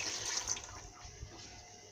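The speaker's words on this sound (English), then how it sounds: "I'm going to add 1 cup of water." Water pours steadily from a container into a soup pot while cooking, a soft continuous splashing and trickling with no voices.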